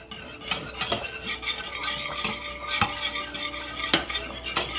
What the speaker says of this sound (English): we're going to bring this back up to a low, gentle boil